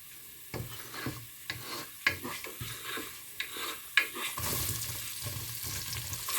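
Garlic sautés in a pan over a low flame, with a soft sizzle under repeated spatula stirs and scrapes and a couple of sharp clinks, then a denser, steadier frying hiss toward the end, no talk.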